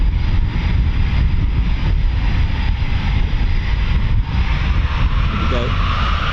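A Eurofighter Typhoon FGR4 fighter jet taking off from an RAF station, a loud, constant, broadband engine roar that fills the whole clip, with voices faintly under it.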